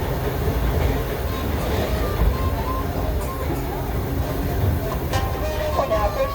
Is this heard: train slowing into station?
yes